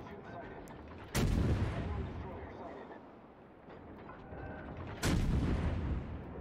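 Naval gun salvos from cruisers in a warship video game, two loud booming blasts about four seconds apart over a constant rumbling battle background.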